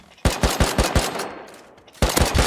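Rapid automatic gunfire in the survival game Rust, a close burst of about eight sharp shots, a brief pause with trailing echo, then another burst starting.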